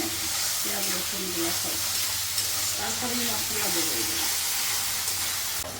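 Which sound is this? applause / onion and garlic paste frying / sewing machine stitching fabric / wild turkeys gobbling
onion and garlic paste frying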